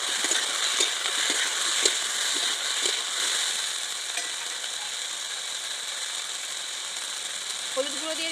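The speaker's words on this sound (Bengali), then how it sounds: "ঝিঙেটা দিয়ে একটু ভালো করে কষিয়ে নিয়েছি আর ভেজে রাখা আলু দিয়ে দিচ্ছি। এবার একটু নেড়ে চেড়ে নেব।" Ridge gourd and fried potatoes sizzle in a pan, a loud continuous hiss with scraping stirs in the first few seconds.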